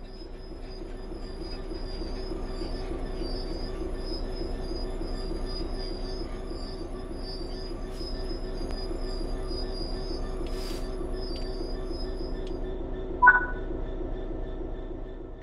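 A train braking in the Train Sim World 3 video game: a steady low rumble with tonal wheel and brake whine, continuous and close, with a brief sharp squeal near the end.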